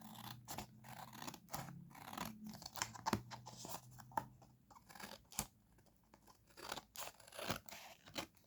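Scissors snip through card, cutting off excess pieces while making a scrapbook page, in a close, quiet series of irregular crisp cuts with small rustles of the card between them.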